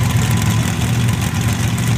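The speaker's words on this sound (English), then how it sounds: "454 cubic inch AMC racing engine" A 454 cubic inch AMC racing engine at a modified-car championship in Indiana, a loud, rough, throbbing low roar that stays steady for the whole two seconds, with no talking over it.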